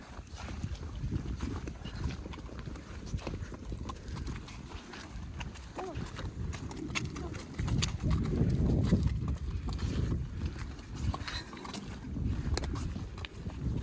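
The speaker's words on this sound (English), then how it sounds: "He led a horse called Rocky" Steady clip-clop of horse hooves on a hard surface, continuous and moderately loud, with a voice talking over parts of it and light wind noise.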